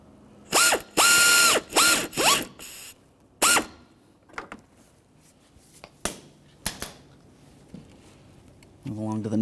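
Ratchet tool driving mounting screws into the plastic grille trim of a 2003-2007 Honda Accord, several quick loud clicking bursts followed by sparser ticks and one whirring run near the end.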